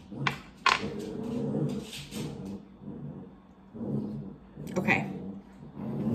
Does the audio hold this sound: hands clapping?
no